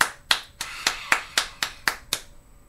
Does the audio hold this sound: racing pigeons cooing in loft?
no